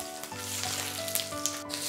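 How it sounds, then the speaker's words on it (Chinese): Duck fat and lard hitting a hot wok after duck has been pan-fried, giving a steady, close sizzle with a low hum underneath for about two seconds, and no talking. "鸭油、猪油来一坨"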